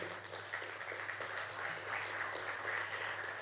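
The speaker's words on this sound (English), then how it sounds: "maybe you can stand up for a minute and we can applaud you" Audience applause at a corporate recognition event for Safaricom partners, a steady dense wash of clapping at moderate distance that holds evenly for several seconds.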